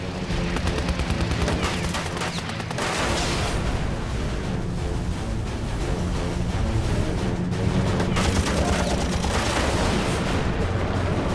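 Machine-gun fire from P-51 Mustang fighter aircraft in a WWII dogfight against Bf 109s, a dense, loud, continuous rattle of rapid bursts lasting throughout with no talk.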